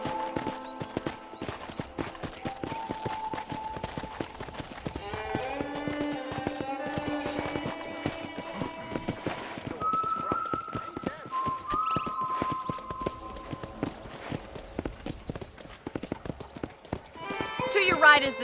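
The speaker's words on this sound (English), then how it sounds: "Okay, let's see if you can still ride a horse." Horse hooves clip-clop steadily while riding on a ranch property in Red Dead Redemption, a continuous near rhythm under a man's and woman's conversation, with a brief whinny and a burst of clatter at the end.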